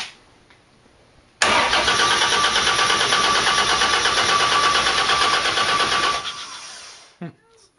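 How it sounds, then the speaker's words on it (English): A 4.3 Chevy V6 fitted in a Series Land Rover cranks on its first start attempt, a loud, steady whirring starter churn lasting about five seconds before cutting off, followed by a brief click and faint shuffling. "I have not tried to start this motor."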